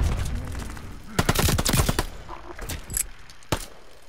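Video game gunfire: a quick burst of shots early on, then a few isolated clicks and pops as the gun runs dry, with quiet gaps between.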